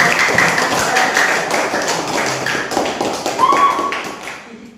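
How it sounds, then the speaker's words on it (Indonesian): A small group of students in an Islamic cultural history classroom session gives a burst of dense, close applause that rises, dips and then fades out at the end, with no talk over it. "tepuk tangan dong untuk kelompok 1 dan kelompok 2"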